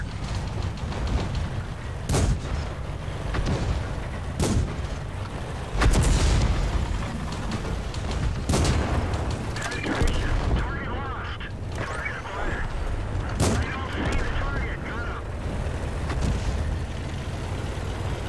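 Tank cannon shots and explosions from a tank battle video game boom sharply about every two to three seconds over a rumbling background, while players talk throughout.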